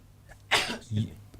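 A single sharp sneeze, close and fairly loud, followed by a brief low vocal sound.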